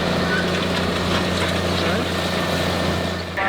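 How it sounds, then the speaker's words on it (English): A large tractor, rated 620 horsepower but remapped to about 700, roars steadily while pulling a soil ripper 300 mm deep through compacted topsoil and clay, a loud continuous engine drone with no pauses. "So the tractor's labelled at 620, but it's remapped, so it's running at about 700 horsepower."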